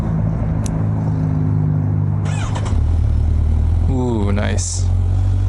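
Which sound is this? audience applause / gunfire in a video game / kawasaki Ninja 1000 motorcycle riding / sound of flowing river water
kawasaki Ninja 1000 motorcycle riding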